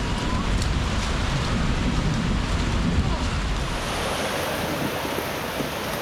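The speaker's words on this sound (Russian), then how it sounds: "От машин волны." Waves pushed up by passing cars wash across a flooded road in Vlorë, Albania, a steady surf-like rush of water mixed with wind noise, continuous and fairly close, without talking.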